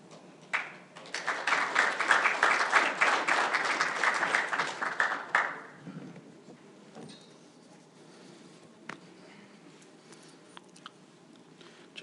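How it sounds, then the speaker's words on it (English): An audience in a room at a power-project investment announcement claps for about five seconds, close and lively, before it dies away into quiet room noise with a few faint knocks. "Just waiting for my second round of applause from that room here."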